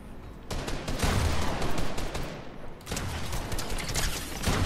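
Gunfire in a Fortnite match rattles in dense, continuous volleys, loud and sustained with brief lulls and no talk over it.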